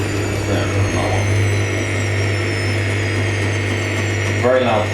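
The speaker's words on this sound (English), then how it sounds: "Very loud pump." Drain pump of an Indesit IWDC6143 washer dryer on a wool 40°C programme, a loud constant electric hum and whirr running steadily throughout, close up, with a brief voice near the end.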